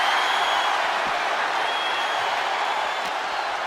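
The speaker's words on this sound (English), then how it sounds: "And you hear the crowd, they want tables, they're going to get it." A wrestling arena crowd at a Legacy: Monday Night Resilience show roaring and cheering for tables, a steady, dense wash of crowd noise throughout.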